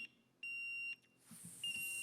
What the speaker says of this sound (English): We'll start by testing your buzzers.